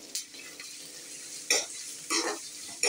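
Finely chopped onions sizzle softly in a hot pan while a utensil stirs them in several brief scraping bursts, close by and without talk, while making green peas brinjal masala.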